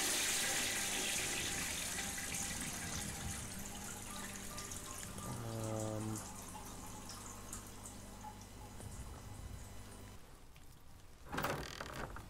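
A toilet in the horror game Dreams flushes with a steady rush of running water, a short mechanical gurgle partway through and a brief clunk near the end, fairly loud and with no talking.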